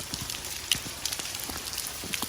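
Steady rain patters during a walk through Oslo on a spring day, a dense even hiss with scattered close drips and taps throughout, no voices.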